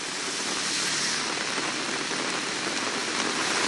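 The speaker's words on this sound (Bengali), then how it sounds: "কতদিন থাকবে এই বৃষ্টি?" Heavy rain pours over Kolkata, a dense, steady hiss of water drumming on surfaces that stays loud and even throughout, with no voices.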